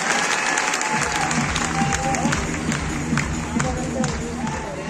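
A large audience at a stage event claps loudly and steadily for about five seconds, with a crowd murmur and some talking mixed into the dense applause.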